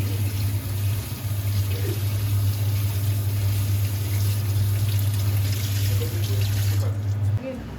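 Cold tap water runs hard and steady into a vessel of cooked eggs, a loud pouring rush with a low hum that stops abruptly near the end.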